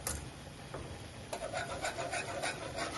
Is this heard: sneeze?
no